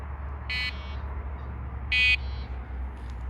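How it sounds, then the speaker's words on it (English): Two short electronic beeps from a fishing rod bite alarm, about a second and a half apart, sound clearly over a low steady outdoor rumble. "Right, my rod just beeped."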